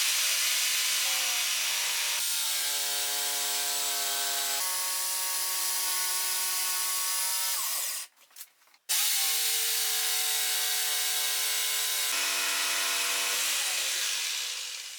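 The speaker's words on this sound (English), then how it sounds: "I take the opportunity to make a miter cut with the jigsaw." Jigsaw making an angled miter cut through a wooden rafter tail, a loud close blade buzz with shifting pitch as it bites the wood. It stops for a moment partway through, then resumes and runs steadily to the end.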